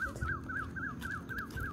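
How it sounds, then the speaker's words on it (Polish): Birds call in a park near Pattaya, Thailand: a quick, regular series of short chirps, about four a second, fairly faint over low background noise, with no talking. "Ptaszki śpiewają."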